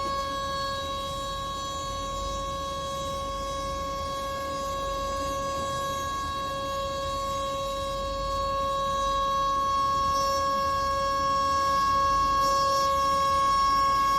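A steady, sustained air raid siren wail drones on throughout during a mock drill, a constant tone that swells slightly louder toward the end, with no voices.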